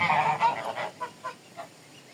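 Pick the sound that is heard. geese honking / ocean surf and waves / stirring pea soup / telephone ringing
geese honking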